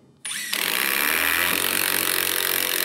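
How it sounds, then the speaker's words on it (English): An impact driver sinks a Fasten Master MVP screw deep into wood, starting abruptly and then running as a loud, continuous close-up whir and hammering rattle until the end, with no talking. "I drove that as deep as I could until I hit the end of my impact driver"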